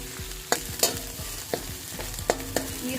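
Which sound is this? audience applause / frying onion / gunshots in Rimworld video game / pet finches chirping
frying onion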